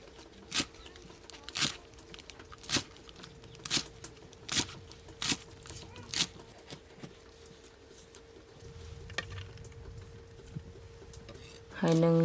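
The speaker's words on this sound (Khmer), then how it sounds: "តបមកខ្ញុំហាន់ជីរណា" Coriander is chopped with a knife on a board while making pork larb, giving a run of about eight crisp, evenly spaced taps up close, then quieter rustling before a brief tonal sound at the end.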